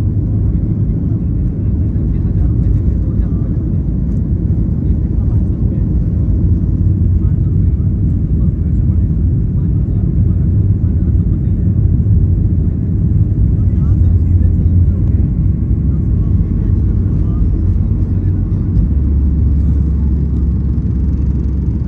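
Inside the cabin of an Air India Express passenger jet taking off, a loud, deep engine rumble and roar holds steady throughout, with no break or fade.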